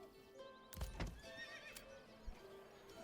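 A horse in the medieval city-building game Manor Lords gives a neigh and whinny with clip-clopping hooves, fairly faint over a steady ambient game background, no talk.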